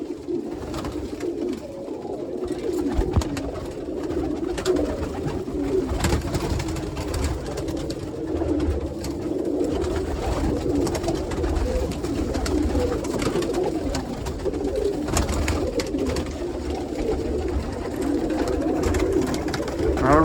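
Pigeons coo continuously inside a loft of rollers, cumulets and tipplers, with soft overlapping throaty calls, occasional wing flutters and faint background voices.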